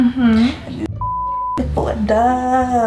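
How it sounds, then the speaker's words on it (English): A mobile phone gives a single steady electronic beep lasting under a second, with people talking just before and after it. "That's my phone."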